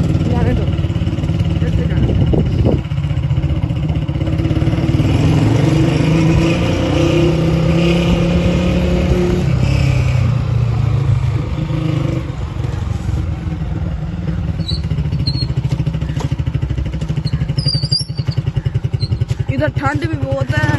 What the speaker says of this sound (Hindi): हम अब बाहर निकले थे मोटरसाइकिल पे